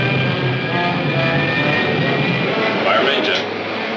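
A rocket's pilot jet fires as a steady, loud engine roar with a rumbling hiss, holding constant and dropping slightly at the end, with a voice calling over it.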